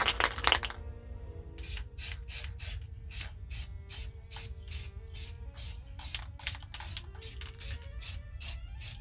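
Black spray paint hisses from an aerosol can over planet stencils, with one longer burst at the start followed by a regular series of short, even sprays close by, without any speech.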